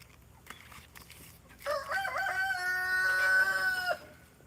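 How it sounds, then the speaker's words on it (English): A rooster crows loudly once, a long wavering call that carries clearly over faint background noise, with a few soft clucks before it. "there's some chickens that they don't want out"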